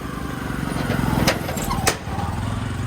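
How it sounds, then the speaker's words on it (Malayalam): Motorcycle engine droning steadily while crossing a hanging bridge, a continuous rumbling putter with a couple of sharp clanks partway through. "ബൈക്കുകൾ വന്നുകൊണ്ടിരിക്കും."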